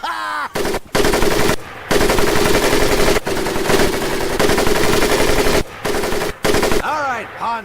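Machine gun fire in the video game Medal of Honor Pacific Assault during boot camp: several loud, close, rapid bursts separated by short pauses, with brief voices at the start and end.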